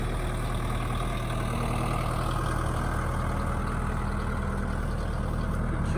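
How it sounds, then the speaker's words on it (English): A tractor engine idles steadily, close by and loud, with a constant low rumble and fine rhythmic chug throughout on a frosty morning; no voices are heard. "Papa and Ben going for a ride in the tractor."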